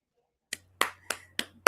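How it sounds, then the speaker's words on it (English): A single person claps five times at an even, unhurried pace, the sharp isolated claps close and crisp after a brief quiet start, with a low steady hum behind them. "This is me giving you a clap."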